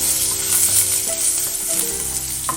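Hot oil sizzles steadily in a pan, ready for the spices, while sajne (drumstick) flowers are being cooked. The hiss is loud, close and continuous, with a few faint clinks and no voice.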